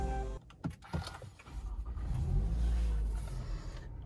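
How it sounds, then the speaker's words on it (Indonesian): A 2020 Toyota Camry is started in warm weather in Bali: a few sharp clicks and clunks, then the engine catches and settles into a steady low idle hum, close by. "Sambil mereview mobil ini, saya mau menyalakan dulu."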